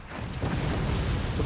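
A missile blows up in the Forts strategy game, a loud, continuous rumbling blast filling the whole moment with dense low booming.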